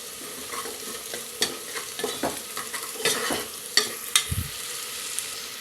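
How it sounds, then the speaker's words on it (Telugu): Ginger garlic paste frying in a pan, a continuous close sizzle with frequent scraping stirs and light clinks of a spoon against metal, plus one low thud. "అల్లం వెల్లుల్లి పచ్చివాసన పోయేంత వరకు వేయించుకుందాం"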